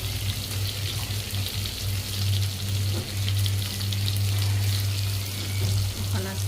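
Loud, steady sizzling and crackling of marinated fish frying in hot oil, close up, with a low hum underneath and no talking.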